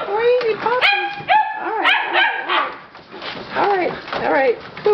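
Several puppies bark and yip in quick, high-pitched bursts close by, some rising into whiny yelps, with a person talking to them in between.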